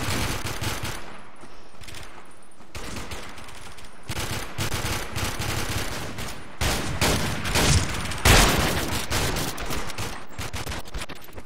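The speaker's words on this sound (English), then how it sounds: "I like this shotgun. It's slower than the other one" Gunfire from a shotgun in the video game Warmode, loud repeated blasts in quick bursts, dense and continuous with no talk over it.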